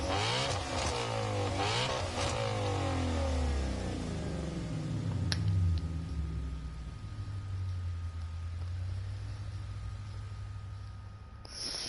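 Racing car engines rev and accelerate in Gran Turismo Sport during a race against AI opponents, with rising and falling engine whine that gradually fades to a steadier drone.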